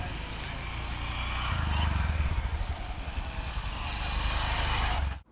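Motorcycle ridden out of Netarhat in Jharkhand, a steady close engine drone with wind rush that swells and eases over a few seconds, then cuts off abruptly.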